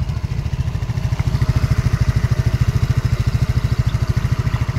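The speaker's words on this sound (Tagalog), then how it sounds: "Dinig ko yung motor ko eh" A Rusi Flex 125i motorcycle engine chugs steadily during a group ride, a close, loud, low rapid pulse with a faint rush of wind over it.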